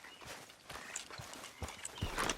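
Irregular horse hoof clip-clops on a hard surface in Red Dead Redemption 2, moderately close, a few beats per second with a soft rumble underneath.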